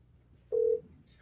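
A single short, clear phone keypad tone sounds once while a call is dialed, alone over a quiet background.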